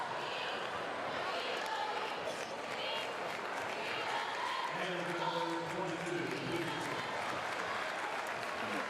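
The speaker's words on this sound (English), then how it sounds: "Both schools giving their players a round of applause." Crowd applauding in a high school gym at a girls basketball district game, a broad sustained clapping from the stands with crowd murmur and a voice talking over it partway through.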